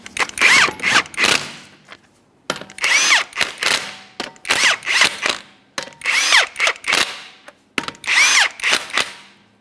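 An impact wrench tightens the 21mm lug nuts on a Toyota Sienna wheel: five separate bursts of loud, buzzing rattling, each about a second long, separated by short pauses.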